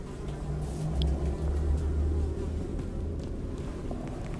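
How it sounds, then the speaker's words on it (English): Steady droning buzz of flies in a dark, foul-smelling cave in The Secret of Weepstone, layered over a low rumbling ambience, continuous and fairly close with no voices. "Despite the buzzing flies"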